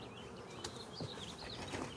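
Honey bees buzz steadily around an outdoor hive during a spring hive split, a faint, dense drone with wavering pitches from individual bees passing near.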